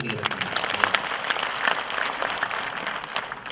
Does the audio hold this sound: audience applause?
yes